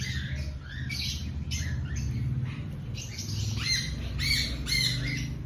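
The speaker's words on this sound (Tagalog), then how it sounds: "Now my parrot keep calling me." A pet parrot calls nearby in repeated harsh squawks and chirps, with quick bursts coming over several seconds.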